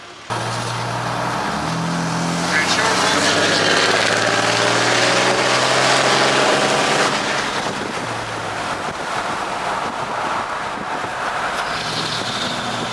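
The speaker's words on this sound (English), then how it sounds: "let's get in the truck and let's do some pulls for you guys" A 2022 Cummins diesel pickup truck with its emissions system deleted accelerates hard, its engine roaring loudly and climbing through the gears with a broad rushing noise, then easing off.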